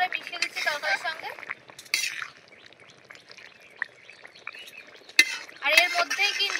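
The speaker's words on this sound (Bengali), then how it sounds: "এবার জিরে বাটাটাকে ভালো করে মিশিয়ে দিচ্ছি তরকারির সঙ্গে" Cumin paste is stirred into a fish curry in a pot. A utensil scrapes and clinks in short bursts, quiet and close, with a voice talking over parts of it.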